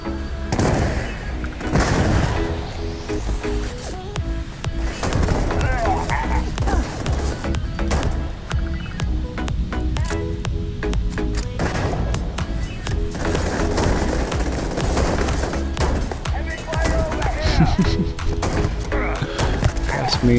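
Razorback rifle fire in Starfield crackles in rapid bursts of sharp shots through a busy combat scene, with a voice talking over the gunfire.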